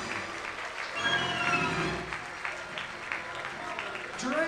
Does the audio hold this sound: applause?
yes